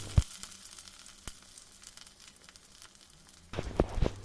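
Curry leaves and green chillies dropped into hot oil for an okra tamarind curry, a sharp crackle at the start, a few pops over a faint hiss, then a louder burst of spattering sizzle at the end.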